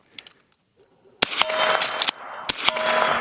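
Two .357 rounds fired outdoors from a Henry X lever-action rifle, each a sharp, loud crack with a ringing metallic tail, spaced about a second apart after a quiet lead-in.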